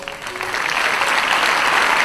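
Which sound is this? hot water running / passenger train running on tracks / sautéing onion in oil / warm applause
warm applause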